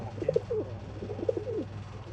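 A pigeon coos softly at a sale in Bangalore, two short coo phrases about a second apart over a steady low background hum.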